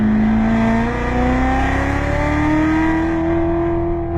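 A race car on a Las Vegas track accelerates hard with the throttle reopened, its engine note climbing steadily in pitch as a loud, continuous roar close to the listener, with no talk.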